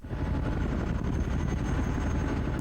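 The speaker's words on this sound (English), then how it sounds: "This chopper here needs to get off the ground." A helicopter lifting off in the wargame Squad Battles Tour of Duty, a steady loud rotor thump and engine roar filling the whole moment without a break.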